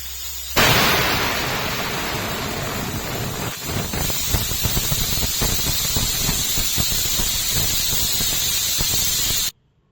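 A pressure cooker holding palak pulao made with ration rice vents steam in a loud, continuous, close hiss that starts abruptly, holds steady for about nine seconds, then cuts off suddenly.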